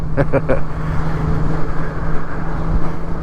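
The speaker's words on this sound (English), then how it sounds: "Can hear his engine more than mine." Continuous low engine drone from a nearby vehicle heard while riding a 2023 Yamaha MT-07 motorcycle, steady and fairly loud, with a few brief tonal blips near the start.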